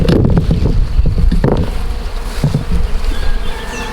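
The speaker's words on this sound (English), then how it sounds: "there's maybe 40 or 50 bees on the tree" Dense, loud buzzing of many bees swarming around a tree close by, with gusts of wind noise brushing across the microphone.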